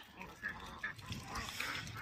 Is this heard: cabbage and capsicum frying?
no